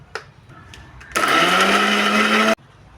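A mixer grinder blends gongura chutney in a short, loud burst, its motor whirring steadily for about a second and a half before cutting off abruptly in a quiet kitchen.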